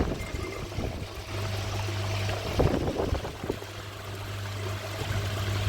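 Water gushes through a ball valve opened just a crack on a homebuilt koi pond filter, a steady rushing pour with a brief splashy surge midway and a low constant hum underneath.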